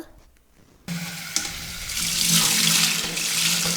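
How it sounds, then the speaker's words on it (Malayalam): Cold tap water runs into a sink to rinse cooked ada rice flakes for Kerala ada payasam, starting abruptly after a quiet moment and swelling into a steady, close, loud rushing splash. "ഇനి നമുക്ക് ഈ അടയിനെ നല്ലപോലെ പച്ചവെള്ളത്തിൽ കഴുകിയെടുക്കണം."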